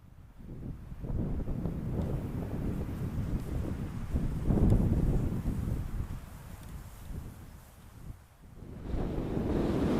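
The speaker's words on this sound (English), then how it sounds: "It's windy." Strong wind gusts roar and buffet across a winter river valley in the Highwood area of Kananaskis, rising and falling in loud surges over about ten seconds.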